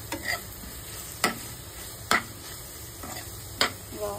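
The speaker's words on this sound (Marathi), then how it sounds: "थोडासा आपण टाकलंय हा मसाला आणि मस्तपैकी ह्याला आता करूया मिक्स" Prawns stirred with masala in a frying pan, a low continuous sizzle punctuated by four sharp spatula scrapes spaced roughly a second apart, close and clear with no talking.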